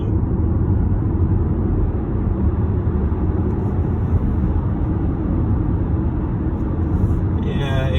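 Audi Q4 e-tron electric SUV accelerating hard, heard from inside the cabin as a loud, steady rumble of road and wind noise with no engine note.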